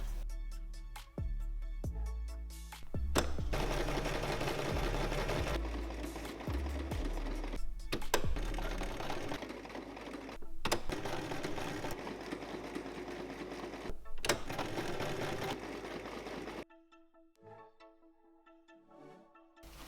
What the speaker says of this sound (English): I'm going to sew the buttonholes with the Singer